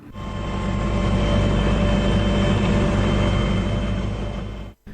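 An Air Tractor firefighting plane flies overhead, producing a loud, steady engine drone that holds for nearly five seconds before cutting off abruptly.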